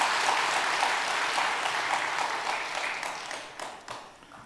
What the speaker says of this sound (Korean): 여기서 박수 쳐야 돼.